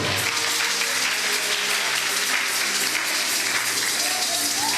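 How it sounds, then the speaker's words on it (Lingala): A crowd claps steadily throughout, a dense continuous patter of applause without pauses. "Nous acclamons très fort."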